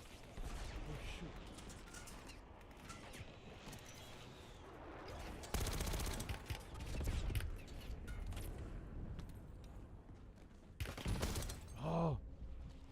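Bursts of automatic gunfire from the video game Warzone, clustered around the middle and the end, mixed with gasps and someone talking throughout.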